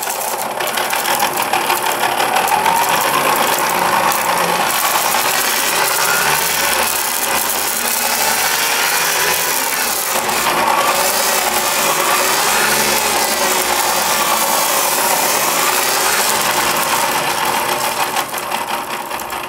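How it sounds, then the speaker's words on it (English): A test gearbox runs at high speed in its second-to-last gear, giving a loud, steady mechanical whine and whir that holds for the whole stretch with no talking. "we're testing the speed of the second to last gear"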